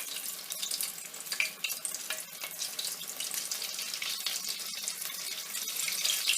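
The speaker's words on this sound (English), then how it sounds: "Put it in, and you want to hear that sizzle." A continuous bright crackling hiss of chicken deep frying in hot oil in a kettle, fairly close, with occasional pops and a soft clink partway through.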